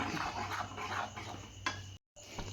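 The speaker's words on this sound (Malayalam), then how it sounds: "എന്നിട്ട് നല്ലതായിട്ടൊന്ന് ഇളക്കി കൊടുക്കണം" Sago and jaggery payasam being stirred in a pan, with soft scraping and light clinks of a spoon against the metal over a low steady hum, plus one brief sharper knock near the end.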